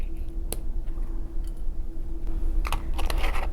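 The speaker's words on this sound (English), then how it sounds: "I'm going to cut open these strands" Beading wire strands are snipped open with cutters in a craft setting, giving sharp, close, isolated clicks and snaps, a single crisp one early and a cluster of quick ticks near the end, over low room hum.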